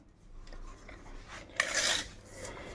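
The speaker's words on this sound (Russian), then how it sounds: "Берем рулетку." A metal tape measure is drawn out during a toilet cistern valve installation, giving one short raspy whir of about half a second mid-clip over a quiet room.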